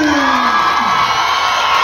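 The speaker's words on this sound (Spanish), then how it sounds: "El aplauso fuerte para" A loud crowd cheers and whoops at a live music debut event in Jalacingo, Veracruz, a dense roar of yells and shouts close by throughout.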